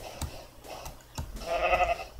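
A sheep in the video game Minecraft bleats, a short nasal call that rises near the end and is mixed with light clicks and game noise.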